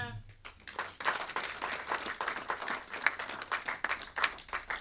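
A church congregation breaking into sustained applause, a dense wash of many hands clapping at moderate distance, rising after a brief quieter start and holding steady throughout.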